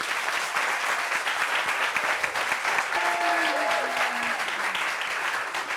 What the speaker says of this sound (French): Applaudissements pour lui, s'il vous plaît.